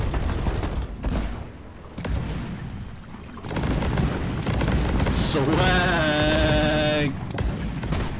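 Gunfire from the video game Deep Rock Galactic crackles in steady bursts through most of the stretch, mixed with other game effects, while a player talks excitedly over it.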